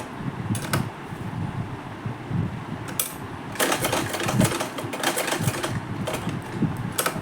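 Sewing machine stitching a blouse, an uneven mechanical whirring and clatter that runs in short bursts with brief pauses, growing busier and louder in the second half; close by, with no voices.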